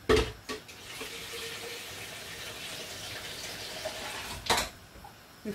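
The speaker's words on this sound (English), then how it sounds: "I'm gonna add in my" Water pours steadily from a tap into a pot of Ghanaian light soup with goat meat, a continuous gushing fill bracketed by a few brief clunks at the start and end.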